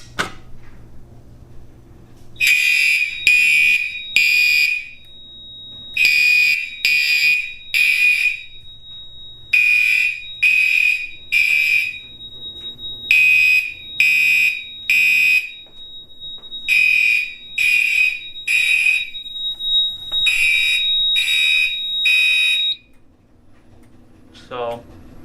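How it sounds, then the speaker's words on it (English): Gentex fire alarm horns on a Silent Knight 5820XL panel sound in loud, synced bursts of three blasts with short pauses, repeating steadily in an indoor space. "let's go start testing the alarms"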